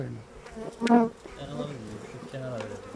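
Honeybees buzz around a full, overflowing beehive, a dense close hum with one louder bee passing near in the middle.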